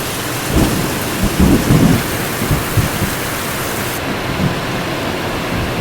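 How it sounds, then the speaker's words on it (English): A thunderstorm with heavy rain in the Borneo jungle at night: a dense, steady roar of downpour with low thunder rumbles swelling early on, loud and continuous throughout. "So last night there was the most god-awful storm."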